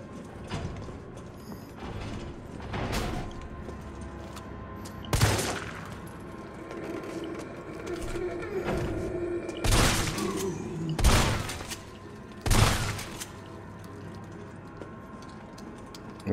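Gunshots in the Resident Evil 3 Demo: several sharp, loud shots spaced irregularly a few seconds apart, over a low mechanical game ambience.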